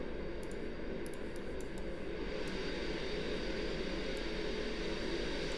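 Concorde touching down in the X-Plane 11 flight simulator game, a steady simulated jet engine roar with a broad rushing hiss, moderately loud and unbroken, with no voices.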